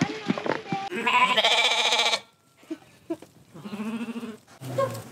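Lambs and sheep bleat repeatedly on a livestock farm in a village, loud close calls in bursts with short pauses between them and some quieter stretches.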